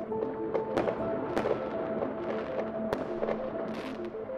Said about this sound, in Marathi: सगळे फटाके फोडत आहे